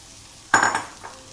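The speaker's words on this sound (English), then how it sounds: "You're gonna add your chicken stock." Chicken stock hits a hot paella pan with chorizo and piquillo peppers, causing one sudden loud hiss and sizzle that swells and then fades over less than a second, with no talking.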